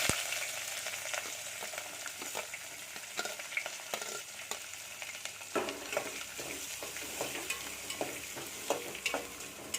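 Onion frying in a pan for mango chitranna, a steady close sizzle with irregular stirring clatter that grows busier partway through, and no talking.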